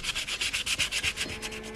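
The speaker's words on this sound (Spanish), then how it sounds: "Después de cortar, pasa lijas de distinto grosor y redondea los cantos del refuerzo" Wooden brace on a handmade octavilla being sanded with sandpaper, a steady close rhythmic rasp of back-and-forth strokes, about a dozen even passes, loud and alone with no voices.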